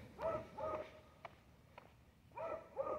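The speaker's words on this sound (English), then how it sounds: "The yowling, screaming, barking, incessant noise of the neighbor's dog." A neighbor's dog barks in short, moderately distant bursts, with two barks at the start and two more near the end, separated by faint sharp yips and a quiet background.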